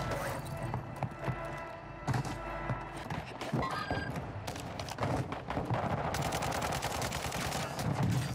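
Rapid bursts of rifle fire from a Kastov 762 in a first-person shooter match on Vondel Park, crackling shots in quick strings under game noise, close and fairly loud.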